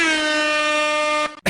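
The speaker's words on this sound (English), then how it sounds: "And I'll do an air horn right here." A loud, brassy air horn blares as a single sustained blast of just over a second, then cuts off abruptly before a brief noise.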